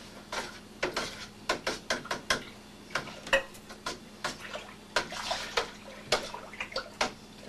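Homebrew beer wort being stirred by hand to add oxygen: a close, irregular run of sloshing, splashing strokes with small clinks, repeating steadily for several seconds and heard alone.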